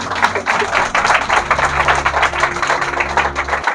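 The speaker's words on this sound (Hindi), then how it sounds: "प्रभु की महिमा के लिए सब जोरदार तालियां बजाएंगे।" A church congregation claps hands enthusiastically in praise, a dense rapid patter of many hands lasting a few seconds, loud and close, over a faint sustained organ-like tone.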